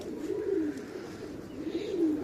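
Pigeons coo at a loft with hundreds of birds, two soft, throaty rolling coos close by over a constant murmur of the flock.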